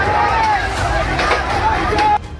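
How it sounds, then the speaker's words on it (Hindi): An agitated mob attacks a police post in Asansol over loudspeakers, a loud, dense crowd roar of overlapping shouts and chatter that cuts off abruptly near the end. "लाउड स्पीकर को लेकर भीड़ ने पुलिस चौकी पर हमला कर दिया।"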